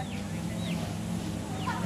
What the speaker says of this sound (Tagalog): Mga native na manok yan eh.